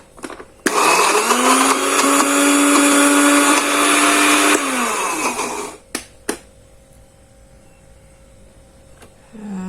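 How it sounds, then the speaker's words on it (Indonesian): A kitchen blender grinding chicken with shallots for dim sum filling runs loud and steady for about four seconds, then winds down, followed by a couple of sharp clunks and quiet room tone. "Kita blender, kita halusin lagi."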